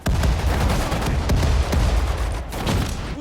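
Dense, continuous gunfire from Sudden Strike 4, set in Singapore, with rapid overlapping shots and heavy booms keeping up a loud, unbroken barrage throughout.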